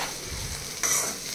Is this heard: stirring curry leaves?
yes